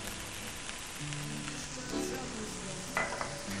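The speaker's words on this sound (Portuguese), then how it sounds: "Eu tô simplesmente refogando, dando sabor ao meu pirarucu, ok? Com cebola e com alho." Pirarucu fish sautéing in a pan with onion and garlic, a steady close sizzle and crackle throughout with a few brief stirring clinks near the end.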